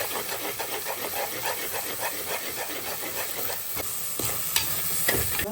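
Ground tomato masala stirred while frying in a pan, a steady sizzle with rhythmic scraping strokes of the spoon, close and loud with no talk.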